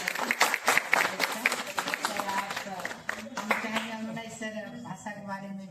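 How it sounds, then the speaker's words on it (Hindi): A room of people breaks into a round of clapping, a burst of uneven hand claps with voices mixed in, fading into a voice speaking at the end. "एक बार जोरदार ताली बजा"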